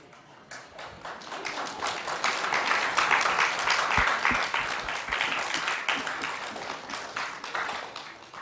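An awards-ceremony audience gives a big round of applause for the parents and grandparents at the MPK Crystal Youth Awards, dense clapping that swells to a loud, sustained peak before easing slightly.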